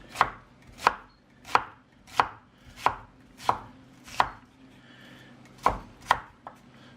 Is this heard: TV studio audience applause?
no